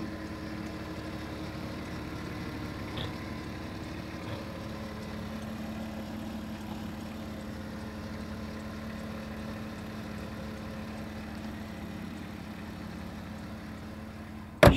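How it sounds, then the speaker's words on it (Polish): A Porsche Cayenne engine idles steadily and quietly, a low even rumble with no revving, heard from close by. "Silnik cichutki, pracuje równo. Na wolnych obrotach nie da się go przygazować."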